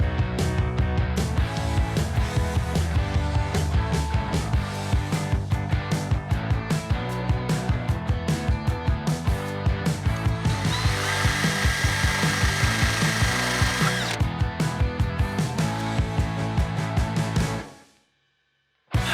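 A table saw with its blade tilted to a 2.5 degree bevel cuts wood in a loud, sustained grinding run with rhythmic rasping, then winds down to a sudden stop.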